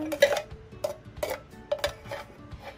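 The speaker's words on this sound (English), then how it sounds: "Okay, so I'm gonna just mix the whole thing." A spoon tosses fruit salad in a bowl, giving a string of close clinks and soft wet knocks in an irregular rhythm, about six distinct strikes, with no talking.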